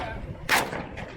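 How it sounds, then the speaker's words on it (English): A single sharp shot from a gas-operated semi-automatic rifle at a trade-show range, loud and close, with a brief echoing tail and a faint second crack just after, with faint voices in the background. "just shoot at one of the bushes"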